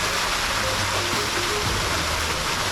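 A waterfall in the wild Jura backcountry, a steady dense rush of falling water that fills the scene evenly and close, with no break.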